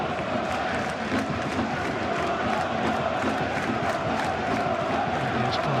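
Football stadium crowd at Plymouth Argyle v Liverpool in an FA Cup fourth-round match, a dense, continuous roar of many voices with murmuring and scattered shouts, steady throughout.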